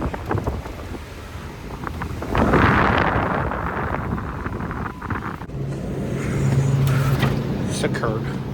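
A Jeep Wrangler drives through a snowstorm in two-wheel drive, its engine and road noise a steady rumble buried under heavy wind buffeting, with a voice talking over it.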